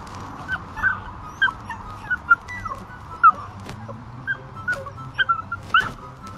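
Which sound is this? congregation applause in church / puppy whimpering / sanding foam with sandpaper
puppy whimpering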